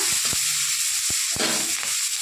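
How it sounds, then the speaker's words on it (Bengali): Chopped capsicum frying lightly in a pan with mustard seeds, a steady loud sizzle with scattered small pops and crackles throughout, no voices. "তো ক্যাপসিকামটা একটু হালকা ভাজবো, খুব বেশি ভাজবো না।"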